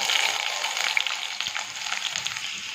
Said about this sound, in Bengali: তেল গরম হয়ে গেছে, দিয়ে দেব মাঝারি সাইজের একটা কুচনো পেঁয়াজ